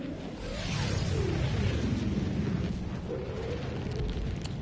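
A 500 kg bomb detonates in Helldivers 2, a loud sustained roaring blast with rumbling debris and whooshing that holds steady for several seconds before easing slightly.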